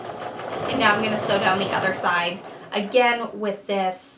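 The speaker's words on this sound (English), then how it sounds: "And now I'm going to sew down the other side" A sewing machine stitching down a quilt block runs in quick mechanical bursts with pauses, close by, under a person talking throughout.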